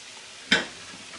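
A single short hiss of pancake batter hitting a hot frying pan and being spread across it, rising sharply and fading quickly in an otherwise quiet kitchen.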